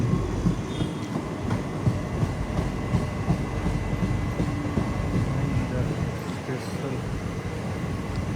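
Steady rumble and rhythmic wheel clatter of a passing Mumbai local commuter train, loud and continuous.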